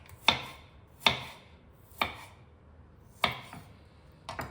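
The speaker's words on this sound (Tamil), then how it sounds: "இப்போ பூண்டு, கருவேப்பிலை, வெங்காயம் எல்லாத்தையும் நைஸாக நறுக்கிக்கலாம்" Garlic, curry leaves and onion being finely chopped with a knife on a board: five crisp, separate chops spaced about a second apart, close and moderately loud, with no talking.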